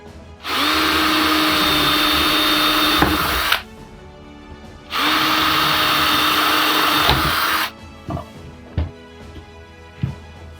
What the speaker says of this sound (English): Basically just drill through.